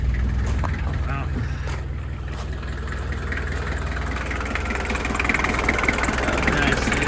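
An old diesel Toyota pickup idles with a steady, low, rough clatter that runs unbroken throughout, close by, with occasional faint background noises.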